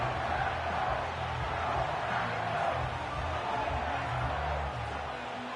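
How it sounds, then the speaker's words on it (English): Stadium crowd at an NFL game between the Lions and Packers, a steady distant roar and murmur of many voices building before a third-down play, heard alone without commentary. "This crowd into it now as we get to 3rd down."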